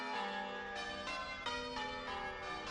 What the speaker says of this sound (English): the only way to warn the city was by ringing the church bells